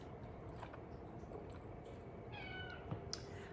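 A house cat meows indoors during a quiet guided meditation, a few soft, thin mews set against a faint steady hum, with no talking.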